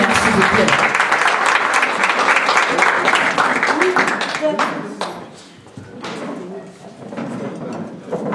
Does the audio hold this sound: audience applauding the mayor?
yes